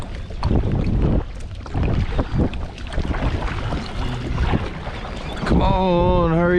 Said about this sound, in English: Let's see how fast I can paddle over there.